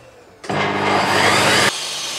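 A table circular saw cuts through wood and multiplex plywood with a loud, steady whining roar. It starts abruptly, lasts just over a second, then drops off sharply to a quieter idle.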